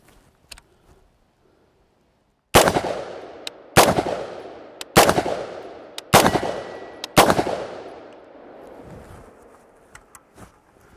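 A BRN-180S rifle fires five rounds of 55 grain ammunition, Frontier then Norma, outdoors: loud, sharp single shots about one to one and a half seconds apart, each with a ringing decay, after a quiet start.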